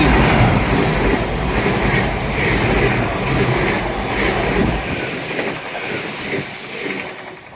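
Train passing on a seawall railway, a loud close rumble with clattering wheels that holds steady and then eases off toward the end as the train moves away.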